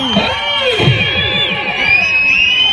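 A crowd at a Sankranti bull racing competition cheers and shouts, a dense continuous roar of voices with rising whoops and yells throughout.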